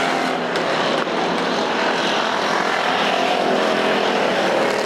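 American factory stock cars race at Perris Auto Speedway, their engines a loud, continuous roar that stays steady and close throughout without letting up.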